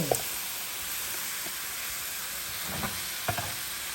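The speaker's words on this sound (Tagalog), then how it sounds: "Halo lang ng halo hanggang sa pumula yung hipon." Shrimp sizzle steadily in a hot pan while being stirred, a constant frying hiss broken by a few soft scraping knocks of the utensil, with no talking.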